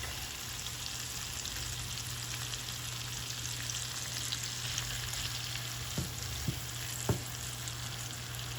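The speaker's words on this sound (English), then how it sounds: "to that I'm gonna add a bit of garlic" Garlic sizzles in a hot pan alongside steak and shrimp, a steady, moderate frying hiss throughout with a few brief clicks of a utensil near the end; no talking.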